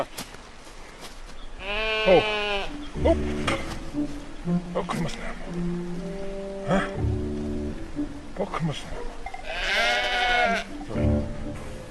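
Sheep bleat loudly several times on a snowy mountain, wavering cries that rise and fall, with quieter calls and a faint buzzing in the background.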